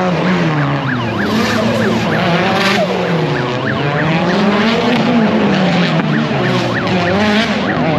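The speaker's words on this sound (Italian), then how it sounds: "BMW sempre a fare le curve in testa coda" A BMW spinning through corners in an industrial-zone drifting event, engine droning loud and close while tires squeal in wavering repeated screeches, continuous and harsh throughout.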